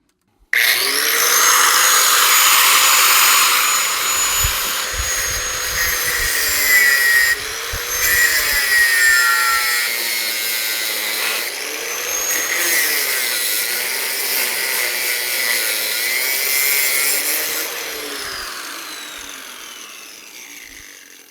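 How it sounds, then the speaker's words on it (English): A radiator hose fitting being cut during fabrication work on a 1963 Ford Galaxie 500, a loud, continuous grinding saw whine lasting about fifteen seconds with brief dips in pitch, then tapering off. "I have to make a cut right here so that this hose can go on"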